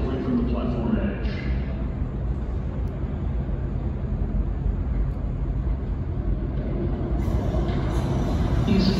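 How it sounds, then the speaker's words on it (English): A New York subway downtown local 5 train pulls into a station. A steady loud rumble of wheels and cars fills the platform while a voice announcement plays over it. "is a downtown local 5 train to Bowling Green. Approaching the station"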